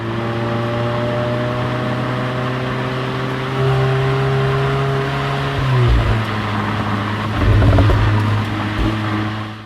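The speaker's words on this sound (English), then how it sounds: "Let's go and have a go in a Volkswagen Golf R." A Volkswagen Golf R hot hatch drives with a loud, steady engine drone whose pitch climbs and then dips, with brief surges as it accelerates.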